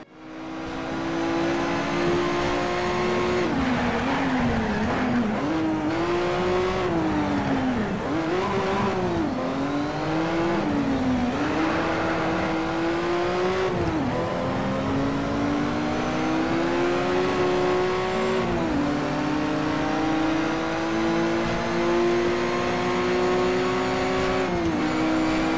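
A racing car in the Need for Speed driving game roars steadily at high revs, its engine pitch climbing and dropping through repeated gear shifts and accelerations, loud and continuous with occasional tyre squeal.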